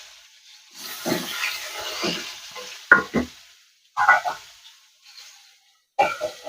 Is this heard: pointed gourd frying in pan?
yes